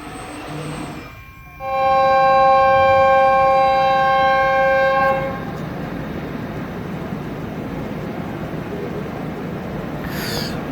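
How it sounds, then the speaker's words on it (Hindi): A Pakistan Express train whistle sounds at departure from Multan Cantt railway station, a loud steady multi-tone blast lasting about four seconds over station ambience, then fading back into the rumbling background noise. "पाकिस्तान एक्सप्रेस के जाने का वक्त हो चुका था, विसल उसने कर दिया HGMU ने।"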